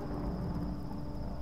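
A thunderstorm in the video game Tomb Raider (2013) gives a brief, dense low rumble of thunder layered over steady rain, heard alone without speech.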